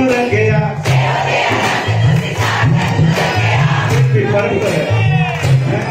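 A large devotional crowd, a congregation of women at a Jain religious gathering, chants a jaikara cheer in unison, loud and continuous with rhythmic swells and voices overlapping throughout.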